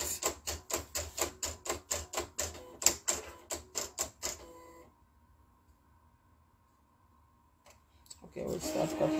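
An electronic cutting machine works on a money card holder, giving a quick run of sharp, evenly spaced mechanical clicks and buzzes, then a long near-silent pause with a faint tone, before a louder whirring motion resumes at the end.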